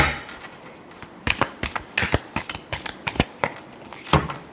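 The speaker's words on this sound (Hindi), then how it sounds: "एक लास्ट शफल।" Tarot cards are shuffled by hand in a quick series of close, crisp riffling bursts, with short pauses between them.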